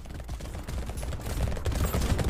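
A nuclear launcher weapon fires in Brotato, producing a quiet, steady stream of crackling shots and low thumps that builds slightly toward the end.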